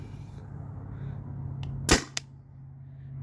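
A Tippmann TPX paintball marker fires a single sharp pop followed moments later by a smaller click, close and fairly loud over a low steady background hum.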